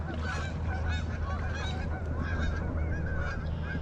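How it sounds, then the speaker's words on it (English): A large flock of geese honks on a lake in early spring, a dense, constant overlapping chorus of nasal calls at moderate distance with no talking. "Holy geese. Look at them all,"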